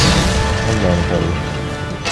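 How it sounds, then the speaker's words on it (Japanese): A barrel breaks in Monster Hunter 3G HD, a loud, dense crash and thud of game effects that blends into busy in-game battle noise for about two seconds. "タル壊れた。"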